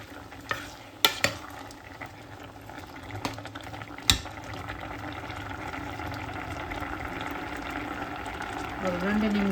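Thick coconut milk coming to a boil in a Jaffna-style drumstick, potato and brinjal chilli curry with curry leaves, a steady low bubbling hiss with a few sharp clinks of a spoon early on, while a voice talks over it.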